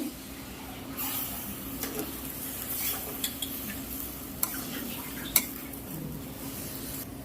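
Semolina halwa being stirred in a pan as milk is added bit by bit, with soft scraping, a faint sizzle and occasional sharp spoon clinks against the pot.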